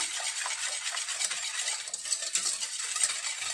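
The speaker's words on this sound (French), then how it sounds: "Je vais bien mélanger jusqu'à ce que le sucre soit bien fondu." A spoon stirs sugar into a sweet custard-like dessert mixture in a pot until it dissolves, a steady scraping and swishing with light metallic clinks, fairly close and alone.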